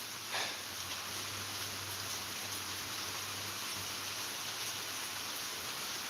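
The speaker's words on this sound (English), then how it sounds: "they're out in the pouring rain playing catch." Steady pouring rain falls outdoors as a broad, even hiss that runs unbroken throughout, fairly quiet, with no voices.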